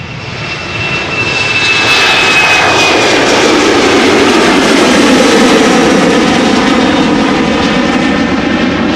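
A loud airliner takes off from Schiphol's Polderbaan runway on a damp day. The broad engine roar swells over the first two seconds, then holds steady and powerful at close range, with a thin whine running through it.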